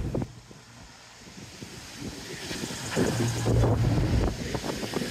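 Strong seafront gusts of well over 17 mph along the seawall at Teignmouth batter the microphone with a constant roaring buffet, surging louder midway, with a faint distant engine hum underneath.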